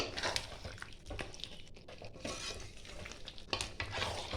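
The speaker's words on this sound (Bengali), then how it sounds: "ভালো করে মিশিয়ে নিতে হবে" Chicken bhuna stirred in a frying pan, with a spoon scraping and turning the pieces through a steady sizzle, loud and close with repeated stirring strokes and no talk.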